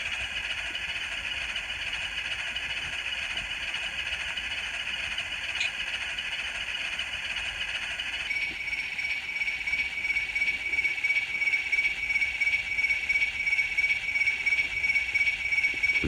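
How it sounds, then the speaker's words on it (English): A model locomotive sound decoder plays a GM turbocharged diesel engine, a steady mid-range idling hum with faint rattle that swells slightly louder after the halfway point, heard alone without talk. "That sounds kind of like another GM with a turbo again."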